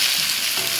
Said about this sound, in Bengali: এই দেখো মাংসটা কষানো হচ্ছে